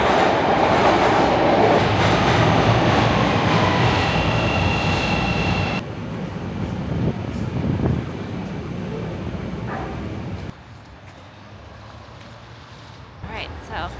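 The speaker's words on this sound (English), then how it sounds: "waiting for the train" A train rumbles and clatters loudly nearby as it arrives at a snowy Chicago station, then the noise drops in abrupt stages as it slows and settles, with faint voices underneath.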